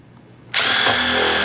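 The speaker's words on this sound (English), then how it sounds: "So I'm gonna just take a regular drill." A regular power drill spins up sharply after a brief quiet moment and drills into a plastic 5-gallon bucket, a loud, steady, close whine held to the end.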